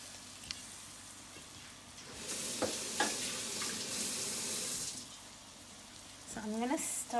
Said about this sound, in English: So I'm gonna stir this up a little, and this garlic smells so delicious in this oil.